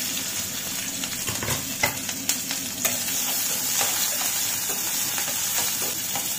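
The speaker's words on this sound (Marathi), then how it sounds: "कांदा छान लाल होईपर्यंत परतायचा आहे।" Chopped onion fries in hot oil in a pan for an egg curry, a steady close sizzle with a few soft spatula stirs and light utensil clicks, no voices.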